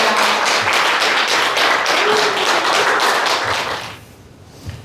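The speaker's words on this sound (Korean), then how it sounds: "스승님께 큰 박수 부탁드리겠습니다." An audience at a lecture hall claps for a guest speaker, a dense rapid patter of many hands that fades out after about four seconds, with no talking.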